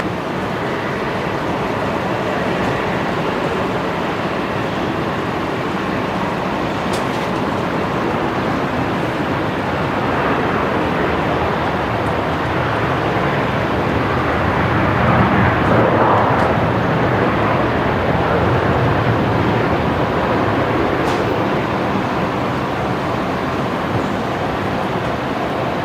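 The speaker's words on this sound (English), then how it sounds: "next aircraft to arrive, Velocity 331 coming in from Melbourne" Aircraft arriving at Brisbane Airport, a Velocity 331 jet coming in from Melbourne, producing a long continuous broadband roar that swells gradually toward the middle, heard from a distance against steady background noise.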